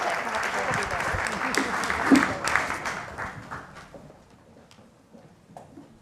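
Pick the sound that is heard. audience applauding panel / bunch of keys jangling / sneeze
audience applauding panel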